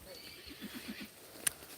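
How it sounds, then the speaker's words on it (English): A horse gives a short, fairly quiet neigh in an open rural setting, with soft hoof clip-clops and a sharp brief sound near the end; no one speaks. "I seen a lot of crazy horses."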